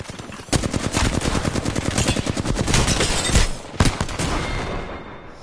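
Rapid automatic gunfire in the video game Apex Legends, a dense run of loud, closely spaced shots lasting several seconds with a brief break near the end before one more burst.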